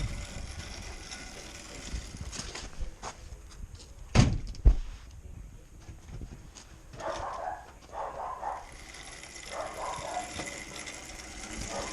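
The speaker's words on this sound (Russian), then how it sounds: "Хорош издеваться над дверью" A door on a homemade motorcycle build site is handled repeatedly, giving a few sharp knocks and thuds over a noisy workshop background, followed by muffled movement sounds.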